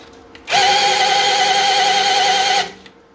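A hand drill whines steadily as it spins the oil pump of a 1965 Mustang's Ford 289 V8, a loud, even high-pitched drone lasting about two seconds that starts and stops abruptly, with no talking.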